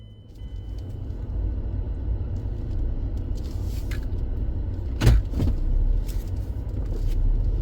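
Steady low car road noise and engine hum fill the cabin, with a brief sharp knock partway through and no talking.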